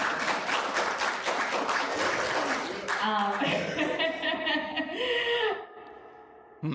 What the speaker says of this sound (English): the applause you heard there is from members of the Alexandria Republican Committee